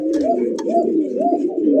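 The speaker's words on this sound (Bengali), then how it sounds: "চমৎকার একজোড়া কালারিং রাজগোল্লা কবুতর" Rajgolla pigeons, a colored fancy pair, coo in a steady rolling series of soft throaty calls, close and fairly loud, with no talking.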